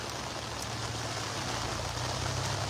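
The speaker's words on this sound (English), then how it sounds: "Look at this rain here." Heavy rain falls in New Amsterdam, Berbice, making a steady, dense hiss of drops hitting surfaces. The sound is fairly quiet and unbroken throughout, with no voices.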